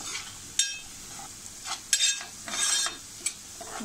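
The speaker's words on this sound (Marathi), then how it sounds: "थोडीशी हळद, हे मी थोडं परतून घेते. थोडं तेल सुटेपर्यंत परतूया." Pieces of yam are sautéed with turmeric in oil, sizzling steadily under a spoon that stirs and scrapes the pan in several sharp, close clatters.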